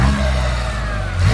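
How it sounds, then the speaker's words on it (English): A BMW i8 fitted with a custom titanium K&N intake revs briefly, a steady, close mid-to-low engine drone that swells again at the end, with no voices. "Let's hear some engine noise."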